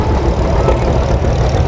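A John Deere Model A tractor engine runs steadily up close, a low, dense rumble with no pauses or voices across the short stretch.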